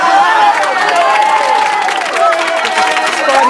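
A studio audience at Celebrity Big Brother UK breaks into loud, steady applause with cheering, a dense continuous crowd roar lasting throughout, while a voice talks over it.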